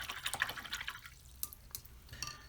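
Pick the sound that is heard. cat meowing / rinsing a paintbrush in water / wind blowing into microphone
rinsing a paintbrush in water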